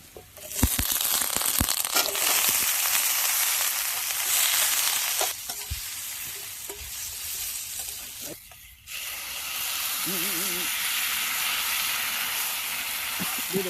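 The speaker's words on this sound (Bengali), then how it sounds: "আলুগুলো কেটে রেখেছিলাম, আলুগুলো দিয়ে দেওয়া হবে।" Cut potatoes dropped into a hot pan on a camping stove, giving a loud steady sizzle and hiss with a few clatters and a brief dip before the frying resumes.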